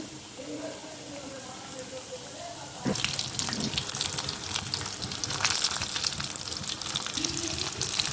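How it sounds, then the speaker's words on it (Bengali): Chicken rolls frying in hot oil, a sudden burst of dense crackling sizzle that starts partway through and stays loud and steady, preceded by quieter kitchen sounds with a voice. "তারপর আমি তেলে আমি চিকেন রোলগুলো ভেজে নেব"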